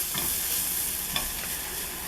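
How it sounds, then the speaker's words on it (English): Milk being whisked into sausage gravy in a pan, a steady soft scraping and stirring hiss with a couple of brief clinks of the whisk, close and continuous. "I'm using the whisk because I don't want it to clump up"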